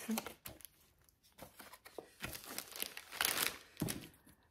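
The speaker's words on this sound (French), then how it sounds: "cette poche, elle se déchire en fait" Paper pocket in a vintage junk journal tearing and crinkling up close, a run of dry rustling rips and crumples with louder bursts toward the end.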